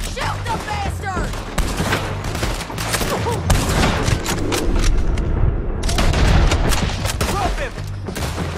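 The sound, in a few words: gunfire in the video game Red Dead Redemption 2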